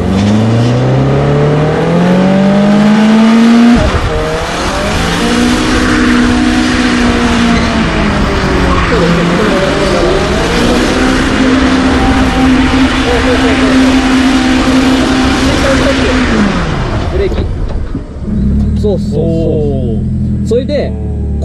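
A car drifting with its engine revving hard, the pitch climbing, dropping and surging again in long sweeps, loud and close, with a short pause before a final rev.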